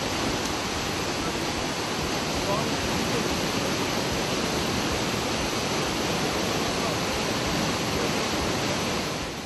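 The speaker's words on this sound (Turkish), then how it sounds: "İşte Gavur Dağları'ndan gelen suların bir set üzerinden döküldüğü yer." Water from the Gavur Mountains pours over a weir at Karaçay Waterfall, a dense, continuous roar that stays loud and close without a break.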